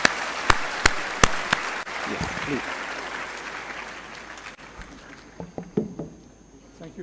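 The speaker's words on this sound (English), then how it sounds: "Let us clap for the Nobel laureate." An audience at an academic lecture event claps to welcome a Nobel laureate, a scattered round with a few loud close claps at first, fading as a voice speaks briefly over it.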